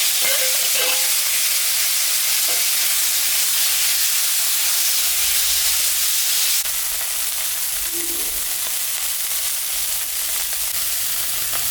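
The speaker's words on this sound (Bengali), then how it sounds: "এখন তেলের মধ্যে ভাজে নেব" Shrimp fry in hot oil in a home kitchen, a loud continuous sizzle and hiss with occasional stirring clinks, growing briefly louder partway through, with no talking.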